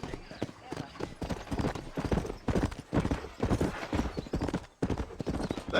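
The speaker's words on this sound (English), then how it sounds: "You ain't gonna find sturdier horses than these." Rhythmic clip-clop of horses trotting on hard ground in Red Dead Redemption, steady hoofbeats with a voice speaking over them and a brief break near the end.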